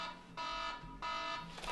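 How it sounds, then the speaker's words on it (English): An alarm sounds in two long, loud electronic bursts with a short gap between them, a steady harmonic buzzing tone going off as a morning reminder indoors. "there's my alarm letting me know that it's time to finish getting ready"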